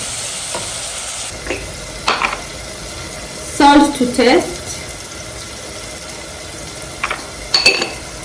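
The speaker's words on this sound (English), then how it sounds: "some cumin powder, stir it a little bit" Leftover rice with cumin powder is stirred in a pan, giving soft scraping strokes and a few sharp clinks of a utensil against the metal over a faint sizzle, while a person talks.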